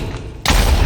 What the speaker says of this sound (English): The explosion doesn't have echo because it's close to you.